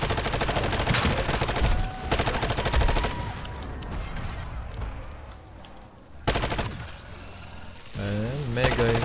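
SMG fire in MW3 Zombies as zombies are gunned down, with rapid full-auto bursts at the start and again near the end, loud and close, under a steady bed of game noise and music.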